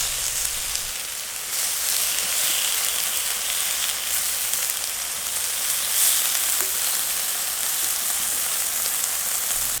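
Bacon rashers frying on a Weber Q 3200 griddle, giving a steady close crackling sizzle that continues evenly throughout.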